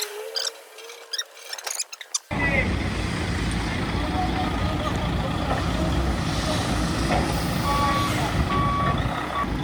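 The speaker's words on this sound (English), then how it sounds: "I'm gonna have to connect this and then reverse all the way out the street with an extra long sprinter and a crusher trailer" An extra-long Sprinter van with a crusher trailer reverses down a street, its reversing beeps sounding at intervals over a loud, steady engine rumble after a short burst of voices and handling noise at the start.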